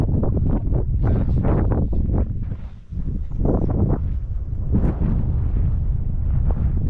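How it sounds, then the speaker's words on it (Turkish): Strong gusts roar across the microphone in a windy mountain gorge, loud buffeting surges rising and falling in waves with a brief lull midway, no speech. "Yalnız boğaz olunca müthiş esiyor ya."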